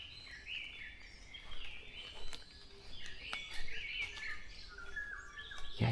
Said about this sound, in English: you can hear the black-naped oriole bird just there.